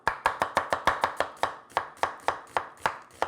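A kitchen knife slicing onion into thin strips on a cutting board, a steady series of about eighteen crisp, close chops in an even rhythm with no talking.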